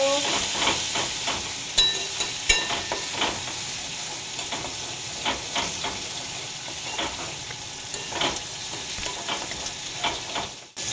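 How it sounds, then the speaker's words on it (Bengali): A spice mix with turmeric sizzles and hisses in a hot pan while being stirred, with repeated scraping strokes and clicks over a steady frying crackle. "এটাকে আমি একটু মিক্স করে ভেজে নেব।"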